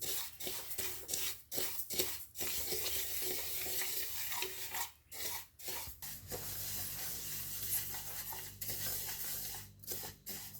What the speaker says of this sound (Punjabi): ਇਹਨਾਂ ਨੂੰ ਭੁੰਨਾਂਗੇ ਤੇਲਾਂ ਨੂੰ ਬਹੁਤ ਵਧੀਆ ਰੋਸਟ ਕਰਾਂਗੇ